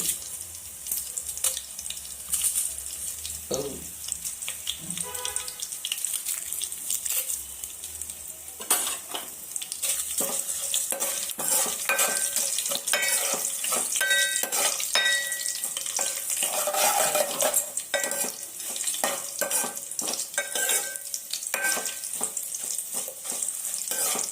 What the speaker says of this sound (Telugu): ఇలా లైట్గా ఏగుతుండగా చూడండి చూడండి చూడండి, ఇక్కడ కొన్ని ఎండుమిరపకాయలు లావుగా అవుతున్నాయి